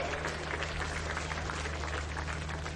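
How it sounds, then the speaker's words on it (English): Applause for a youth under-15 boys football team at a country cup tournament, steady, dense clapping from a crowd, moderately distant with a low hum underneath, continuing throughout. "I think we should give them a huge round of applause"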